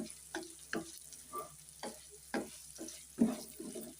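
A pan of bitter gourd fry, a dry blackened chilli-powder dish, sizzling softly while a spoon stirs and scrapes in irregular strokes, close and quiet.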